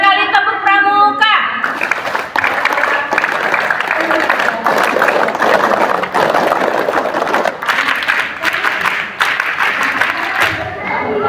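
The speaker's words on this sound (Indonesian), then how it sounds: "3 kali tepuk pramuka." Scouts at an outdoor ceremony marking the 65th Scout Day in Indonesia clap in unison in the rhythmic Pramuka pattern. The loud, crowded clapping opens with a brief voice and mixes with shouting and children's voices.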